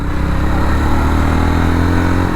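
A Jawa 42 FJ 350 motorcycle engine heard while riding, a loud, steady, close drone with constant throttle and no pauses.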